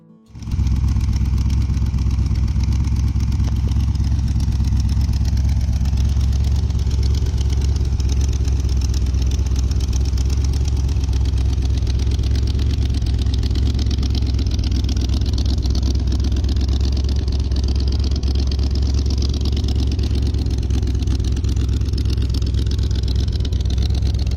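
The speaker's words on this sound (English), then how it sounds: "1962 Volkswagen Beetle Mini T Hot Rod" A 1962 Volkswagen Beetle Mini T hot rod kit car engine starts up and runs loud and steady, a constant buzzy low roar held close throughout.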